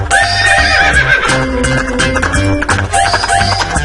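A horse neighs in a loud, close, drawn-out whinny with wavering pitch, then a second whinny follows, used as a sound effect for horse riding; no talk.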